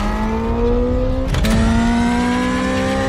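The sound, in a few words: synthesized fake engine noise played through new Dodge car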